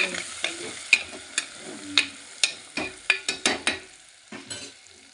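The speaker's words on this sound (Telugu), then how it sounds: "వేయించి మళ్ళీ ఉల్లిపాయలు వేసుకోండి" Prawns frying with onions, turmeric, salt and chili, heard as a steady sizzle broken by repeated scraping strokes of a spatula against the pan, close and fairly loud, no voices.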